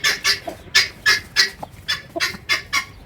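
A hen clucks repeatedly while being settled onto eggs in a crate, giving about eight loud, close calls in a steady rhythm with short gaps between them.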